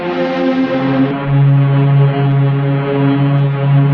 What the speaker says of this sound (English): it's literally like getting bit crushed because it's pitched down so low from the original sample